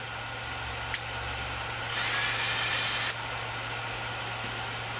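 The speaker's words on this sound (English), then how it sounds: "what you do is chuck this up in a drill bit. I've got a drill" A power drill spins two wire leads clamped in its chuck, a steady high whir lasting about a second amid quiet background hum, preceded by a brief click.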